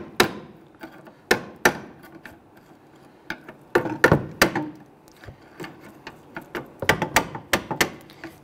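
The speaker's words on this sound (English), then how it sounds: "we're going to come along the side of it here and tap it with our hammer to loosen this" A hammer taps a notched tool to loosen the horseshoe clip on a rear brake hose of a 2006-2012 Toyota RAV4, sharp metallic knocks coming in irregular clusters, close and clear, with no talking.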